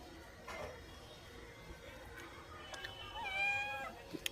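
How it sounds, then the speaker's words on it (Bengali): A house cat asking for food gives one clear drawn-out meow near the end, fairly close but soft, after a quiet stretch with faint household background noise. "আমাদের বাড়ির বিড়াল আছে না, বিড়ালের একটা গায়ে গন্ধ থাকে, তাই জন্য আমার কাছে খাবার চাইছে"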